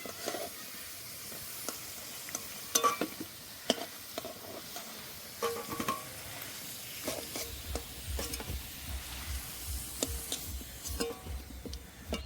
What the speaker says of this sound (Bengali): গোটা শুকনো লঙ্কা, তেজপাতা, গোটা জিরে, জিরে আর লঙ্কাটা ভালো করে ভেজে নিয়েছি